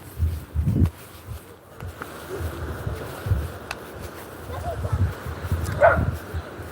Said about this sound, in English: The little dog's having a go at us.